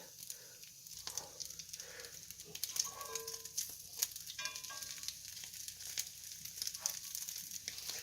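Pre-cooked bacon being reheated and crisped in a pan: a close, lively sizzle with crackling spits and pops that rise and fall throughout, with no one talking.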